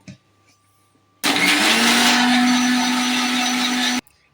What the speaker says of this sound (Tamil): நான் 4 பாதாம் போட்டிருக்கேன். அதையும் சேர்த்து அரைச்சிடுவோம்